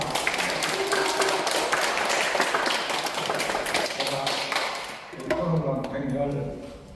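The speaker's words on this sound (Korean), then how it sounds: "박수 한번 더 칩시다." An audience claps for about five seconds at the close of a lecture at a forum, a dense, steady patter filling the hall before a voice begins speaking over the fading applause.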